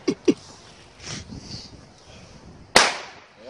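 Late-1990s firecrackers going off one after another: two sharp, close pops at the start, then a fainter rustle, and one loud, bright bang near the end.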